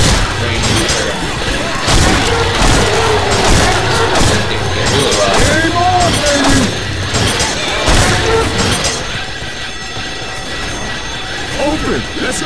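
Rapid gunfire and crashing impacts from Left 4 Dead 2 fill a busy game battle, with dense bursts and booms continuing beneath excited voices throughout.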